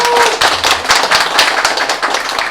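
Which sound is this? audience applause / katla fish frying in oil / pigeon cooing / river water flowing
audience applause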